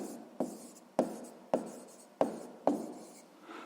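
A pen or pencil writes down the answer to a sixth-grade math exercise on paper, making six sharp, close scratching strokes at a fairly even pace, each tapering off quickly, with no talking.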